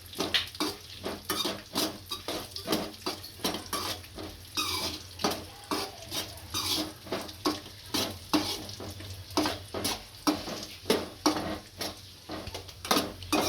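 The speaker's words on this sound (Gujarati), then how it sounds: "આ કાજુ નાખશું આમાં આ પિસ્તા નાખીશું અને શેકી લઈશું સારું" Cashews and pistachios roast in a pan as a spoon stirs them briskly, giving a long run of regular scraping strokes, about two per second, over a faint sizzle. Close and clear, with no talking.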